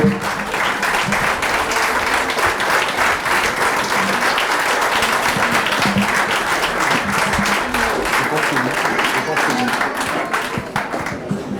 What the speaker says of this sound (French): Applaudissez s'il vous plaît les étudiants